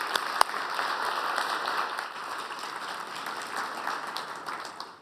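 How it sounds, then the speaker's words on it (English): Audience applause at an energy industry conference, a continuous, moderately distant patter of many hands clapping with a couple of sharper claps near the start. "Applause."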